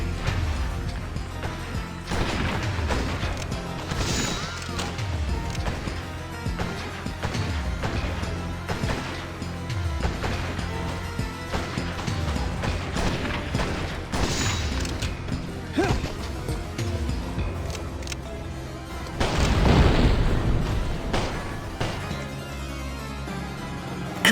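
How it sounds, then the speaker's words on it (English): Continuous Western firefights from the video game GUN, with dense, overlapping gunshots and crashing impacts packed tightly together for the whole stretch, loud and busy with no pauses and no talk. "Just listen to some of the firefights."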